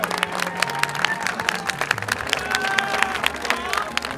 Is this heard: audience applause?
yes